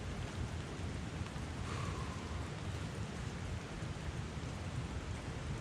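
Heavy rain pours down on Lugnaquilla mountain in a dense, unbroken roar, loud and close, with no voices.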